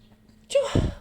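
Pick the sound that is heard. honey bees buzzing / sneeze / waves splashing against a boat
sneeze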